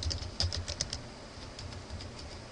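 Fingers type on a computer keyboard in a quick run of clicky keystrokes, close and fairly loud, with a short pause partway through and no talking.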